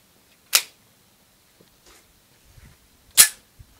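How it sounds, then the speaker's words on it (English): Two sharp handgun shots from a first-time shooter, spaced about two and a half seconds apart, each a loud crack with a quick decay, separated by faint handling noises. "his first attempt shooting a handgun"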